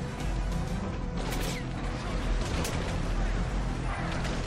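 Heavy rumbling battle noise around a tank in the Metal Gear Solid V video game, a dense low roar with clanking mechanical sounds and several sharp blasts and crashes, loud and continuous.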